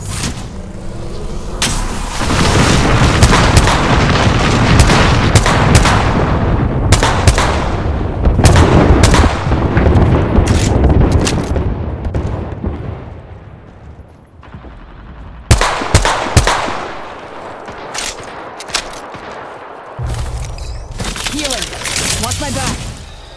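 Bangalore's artillery strike in Apex Legends hits as a long run of heavy, booming blasts and gunfire, loud and sustained, with a brief lull before another cluster of sharp impacts.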